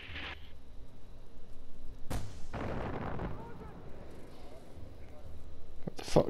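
Mortar fire in Far Cry 4, a couple of loud booming launches and impacts separated by quieter rumbling game ambience.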